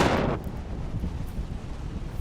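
Strong wind buffets the microphone while paragliding over Champeaux, a steady loud low rumble with gusty roughness and a brief brighter rush at the start, with no talking.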